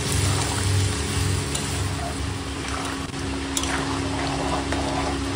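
Water used to rinse a yogurt marinade from a plate is poured into a cooking pot of chicken, producing a steady, close, continuous rushing and splashing pour without pause.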